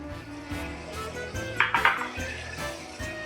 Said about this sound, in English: Let's throw our lamb in the pan.